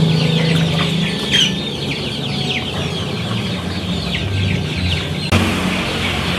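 Joper chickens in a large indoor coop of about 1000 birds cluck and call continuously, a dense flock chorus with occasional louder squawks over a steady low background hum.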